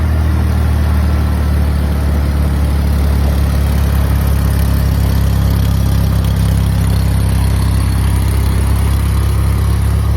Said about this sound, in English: Once it gets warm, it'll kick down into an idle, slow idle.